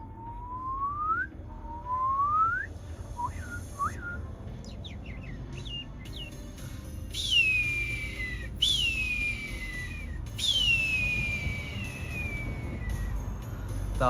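A man in a van in Venice, Los Angeles whistles to imitate bird calls: rising swoops, short chirps, then long descending hawk-like screeches, fairly close over steady outdoor background hum.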